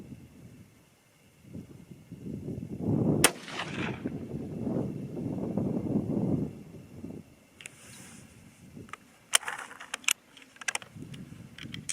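A 22-250 Remington rifle fires a single sharp, loud shot from a cold, clean bore outdoors, followed by a rumbling echo and light wind noise, with scattered clicks later.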